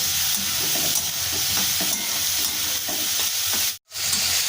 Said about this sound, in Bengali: এবার এটাকে দিয়ে আমি খুব ভালো করে নাড়াচাড়া করবো